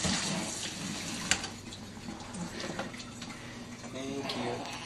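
Hot water runs steadily from a tap into a bath, a continuous close splashing hiss with adults talking softly over it.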